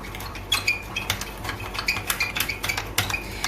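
A spoon scrapes and clinks against a bowl while BBQ sauce ingredients are mixed, a quick repeated rhythm of metallic taps and scrapes, near and clear.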